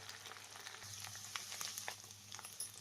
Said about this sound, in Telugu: ఈ విధంగా పచ్చివాసన పోయేంత వరకు అయితే ఫ్రై చేసుకోవాలండి